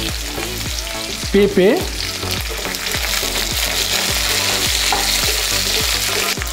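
Potatoes, sweet potato and drumstick pieces fry in oil for shukto, a loud, steady sizzle with a regular rhythm of spatula stirring scrapes, briefly interrupted by a short spoken word near the start.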